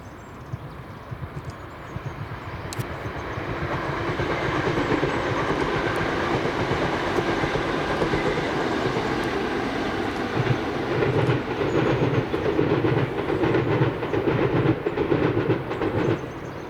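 Two ScotRail Class 320 electric trains run over Motherwell Viaduct, a steady rolling rumble with rhythmic clickety-clack from the wheels that builds and holds close by throughout.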